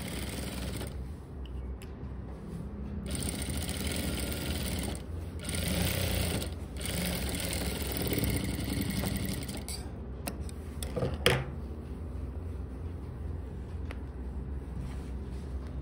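Sewing machine stitching along the folded fabric edge of a pant pocket runs in bursts of rapid mechanical ticking, pausing and restarting several times, close and steady with no voices.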